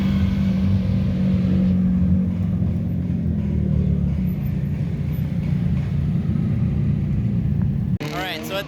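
Drift cars rev at a drift event, a loud continuous engine roar and rumble that runs almost the whole time, then drops off abruptly near the end as a brief burst of higher, fluttering sound takes over.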